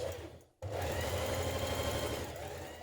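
Sewing machine stay stitching the neck edge of a McCalls 7969 Tracy dress, a steady close whirring run that stops for a brief gap, then resumes and continues to the end.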